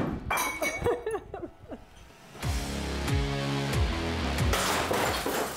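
Glass and dishware break in a rage room: a run of sharp clinks and smashes early on, then heavier crashing clatter and scattered shards, close and loud.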